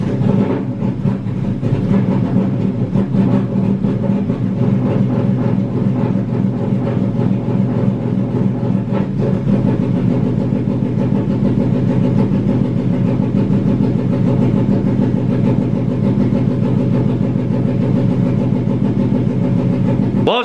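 A street-tuned hatchback's engine runs steadily on freshly added fuel, a loud continuous mid-range drone that holds unbroken and close throughout, with no talking.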